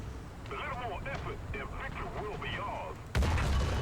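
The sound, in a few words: KV-2 tank cannon firing in the video game War Thunder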